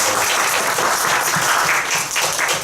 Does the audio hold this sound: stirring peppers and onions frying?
no